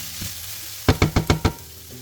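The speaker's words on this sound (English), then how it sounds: "So I'm just cooking the chicken and the onion" Chicken and onion fry in a pan with a soft steady sizzle, then five quick evenly spaced knocks of a utensil against the pan, close, with no talk.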